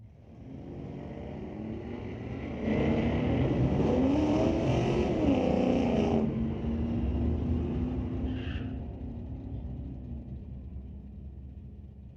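A 1990 Fox Body Ford Mustang races down the drag strip at Mission Raceway with a loud, sustained engine rumble that rises as it passes, then fades into the distance. A short tone follows near the end and no one speaks.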